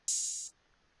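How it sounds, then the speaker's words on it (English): A single open hi-hat hit rings with a bright, hissy wash for about half a second, then cuts off, followed by near silence. "open hi-hats, which sounds like this."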